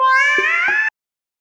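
A voice imitates a kettle whistling as water boils, with a single high, shrill, steady tone lasting under a second, close and loud.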